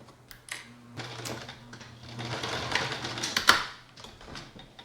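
A Brother 1034D serger runs steadily as it stitches binding down along a fabric edge, a close mechanical whir with a soft rapid ticking that swells and eases, with no voices.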